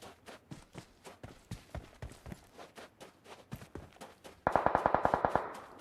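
Gunfire in the PUBG Mobile battle royale game: a steady run of sharp single shots, then a faster, louder automatic burst near the end, with no talk over it.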